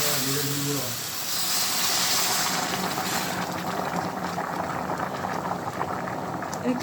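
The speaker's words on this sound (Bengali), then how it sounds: "চালটা ভাজা হয়ে গেছে, এখন আমি জলটা দিয়ে দিব।" Water poured onto fried rice in a pot for biryani, a loud rushing hiss and sizzle that holds steady throughout, with a voice talking underneath.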